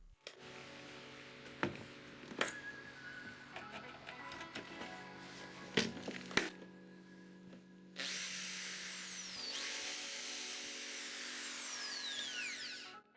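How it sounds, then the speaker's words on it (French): An electric drill runs off a homemade inverter built from a Soviet battery charger: scattered clicks and handling knocks come first, then the motor kicks in and whines loudly and steadily, its pitch drifting as it runs. "La perceuse fonctionne également sans problème."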